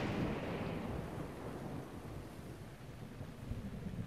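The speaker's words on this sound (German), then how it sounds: "Alter, wie das donnert und kracht." Thunderstorm in the video game The Legend of Zelda: Breath of the Wild, with a deep rolling rumble of thunder over steady heavy rain, loud and continuous throughout.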